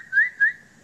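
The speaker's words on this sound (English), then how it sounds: "all I have to do is whistle" Two short rising whistles from a magician's mouth during a card trick, close and clear, each lasting about a quarter second with a brief gap between them and no talk.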